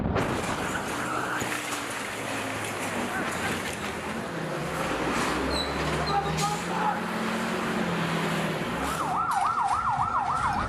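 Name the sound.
ambulance siren at night in Gaza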